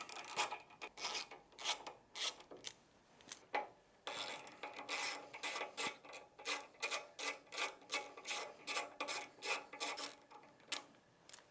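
Screws on a Harley Touring fork guard are turned out with a T25 Torx tool, a close run of rhythmic ratcheting and rasping clicks in quick regular bursts with brief pauses, with no talk.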